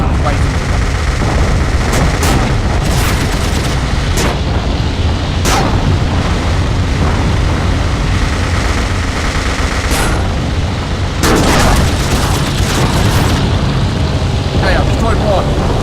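Aerial dogfight in the WWI flight game Wings! Remastered, with bursts of machine-gun fire and booming explosions over constant engine drone, loud and repeated throughout, with someone talking over it.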